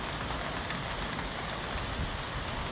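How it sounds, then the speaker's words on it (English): Hard hail falling in Southern California, a dense, steady hiss of pellets hitting surfaces and a tarp, loud and unbroken throughout with no voices. "Look at this hail."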